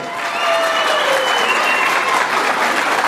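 Crowd applause at a horse-riding tournament in a plaza in Tehuitzingo, honoring a finalist ranch team; dense, steady clapping that swells in the first half second and holds loud and sustained, with a faint whistle-like tone over it.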